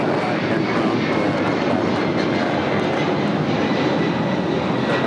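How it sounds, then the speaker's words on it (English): A Delta Boeing 767 airliner at Los Angeles International Airport gives a steady, loud broadband engine roar that holds without break, with a voice speaking faintly underneath. "And that is a Delta 767"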